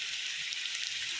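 Rice slipping into a pot of boiling water for chicken biryani gives a steady, soft hiss and bubbling sizzle, close and even for a brief moment, with no talk.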